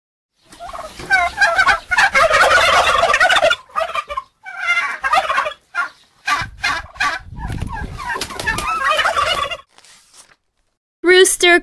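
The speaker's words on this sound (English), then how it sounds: "Turkey gobbling." A turkey gobbles in loud, rapid, rattling bursts, repeated several times with short gaps between them, heard up close with no talking.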